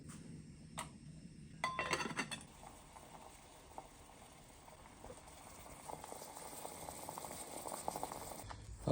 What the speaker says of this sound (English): I'll tell you what, that boiled real fast.